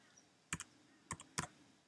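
Three quick bursts of computer keyboard keystrokes typing a search term, close and crisp, with short pauses between clusters and no talking.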